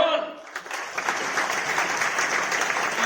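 Audience applause at an Olympics commemorative postage stamp release ceremony, a steady dense clapping from a crowd that starts thin and quickly swells, sustained to the end.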